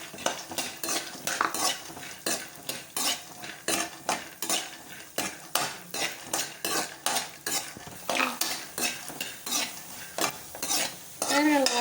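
Peanuts roast in a pan while a spoon stirs them briskly, making a rapid, regular series of scraping, rattling strokes up close, with dry clinks of metal on metal and no voices.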